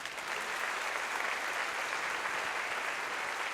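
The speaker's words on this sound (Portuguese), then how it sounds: "Você pode aplaudir Jesus?" A church congregation claps in a dense, continuous burst of applause that holds steady for several seconds, filling the room without any clear speech on top.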